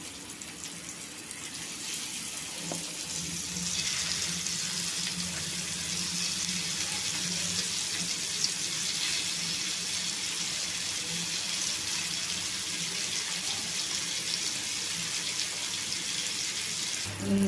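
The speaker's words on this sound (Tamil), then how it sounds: "ஒன்று ஒன்றா தவாவில் போட்டு ஃப்ரை பண்ணுறோம்" Slices of yam fry in oil on a hot tava, giving a steady, broad hiss that runs almost unbroken from start to finish, close and fairly loud, with no voices.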